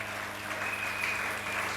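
A congregation claps steadily in a church service to acclaim Jesus, a faint, even wash of applause with a thin sustained tone running through it.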